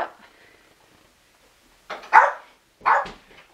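A dog gives a couple of short, sharp barks after a moment of near quiet, loud and close.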